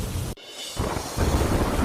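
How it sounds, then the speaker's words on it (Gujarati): Torrential monsoon rain and thunder in Kotdwar Bhabhar, Uttarakhand, a loud, dense wash of heavy rain with a brief dip before deep rumbling resumes and swells. "ઉત્તરાખંડના કોટદ્વાર ભાભરમાં મેઘો મુશળધાર"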